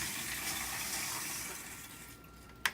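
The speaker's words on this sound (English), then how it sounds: "So now what I want to do is hit play again to start the water moving again." Water running steadily through an XP Aqua RODI reverse-osmosis water system, a continuous soft hiss and gush of flow heard close up, with a brief sharp click near the end.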